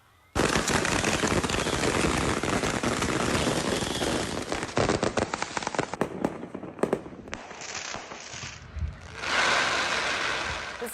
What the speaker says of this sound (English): a spate of crime as illegal firework displays lit up the night sky